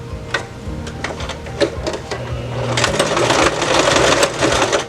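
Sewing machine running a few quick stitches on a fabric clutch phone bag, a loud close whirr with rapid ticking that builds into a steadier stitching run.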